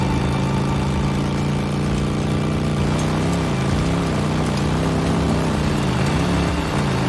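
A motorcycle engine in the video game Days Gone runs as a steady, loud, close drone, its pitch wavering slightly midway as the throttle shifts, with no voices.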